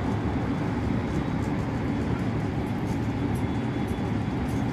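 Riding inside a regular passenger train in Japan, a steady broadband rumble and hiss of the moving carriage fills the space evenly throughout, with no talk.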